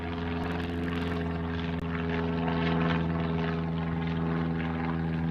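A large airliner taxis toward the runway at Honolulu airport, its engines giving a steady loud droning hum with a constant tonal whine throughout.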